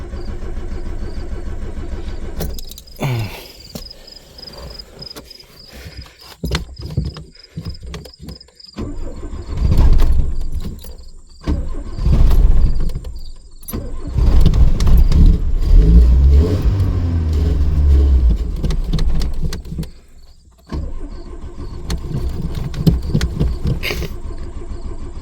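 A 1983 K-Car wagon with a five-speed, sitting for 30 years, cranks repeatedly in short bursts, then catches and runs roughly with uneven revving and stumbling, loud and close.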